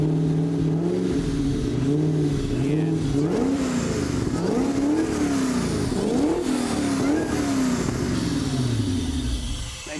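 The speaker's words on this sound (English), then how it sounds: "You gotta love the sound of a supercharger, and this thing sounds healthy." Supercharged Mazda B2500 truck engine running and being revved, rising and falling in repeated close, loud sweeps over a steady idle, with no talk.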